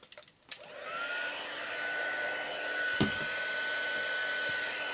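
A heat gun blows steadily at close range to melt gold embossing powder on a handmade card, a continuous broadband whoosh with a faint tonal whine, preceded by a few brief handling clicks.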